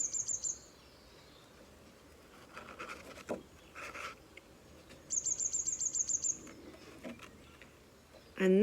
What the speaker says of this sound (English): you can listen to all the birds singing